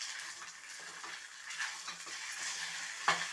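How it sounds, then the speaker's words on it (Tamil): A grated dough mixture for salt dumplings is stirred in a hot pan, giving a soft continuous sizzle and scraping hiss with gentle rhythmic strokes and a sharper utensil knock near the end. "அந்த மாதிரி இப்போ கிளறிக்கணும் நம்ம இதை"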